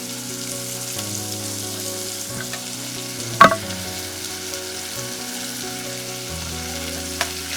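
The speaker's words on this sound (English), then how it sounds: "I'm stirring it so that it will mix." Onions, tomatoes, pepper and a seasoning cube fry in a pan for a yam and egg sauce, giving a steady, moderate sizzle as they are stirred, with one sharp knock of the spoon partway through.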